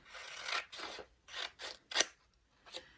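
Scissors trim wrapping paper while a gift is wrapped: a quiet run of five or six separate snipping cuts, each a short crisp rasp, close by with nothing else in the background.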